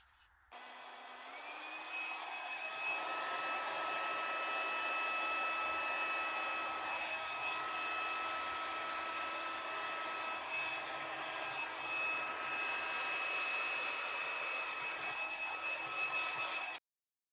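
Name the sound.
blow dryer blowing acrylic paint around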